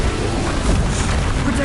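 Hogwarts Legacy's Confringo blast spell goes off as a loud, booming burst with a rumbling low end. It fills the short moment on its own.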